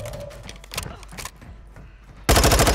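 Gunfire in Call of Duty Warzone on Ashika Island, several sharp nearby shots early on followed by a loud rapid automatic burst at the end.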